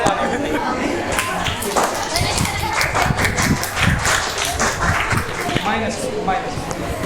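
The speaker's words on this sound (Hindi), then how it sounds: "तुम लोग क्यों ताली बजा रहे हो?" Students in a classroom clap during a physics quiz, a dense run of sharp hand claps sustained throughout, with talking mixed underneath.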